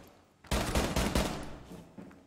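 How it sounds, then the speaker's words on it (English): A rapid burst of loud video game gunfire, several close shots in quick succession followed by a fading echo and a couple of softer shots. "Gunshots."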